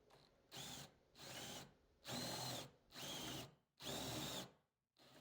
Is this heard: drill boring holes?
yes